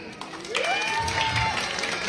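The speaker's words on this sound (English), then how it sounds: "please have a big round of applause" Audience at a school Children's Day celebration applauding a prize winner, steady clapping with crowd noise and a voice speaking over it.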